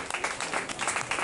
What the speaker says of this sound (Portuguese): Nos quiero pedir un aplauso para Xavier Germán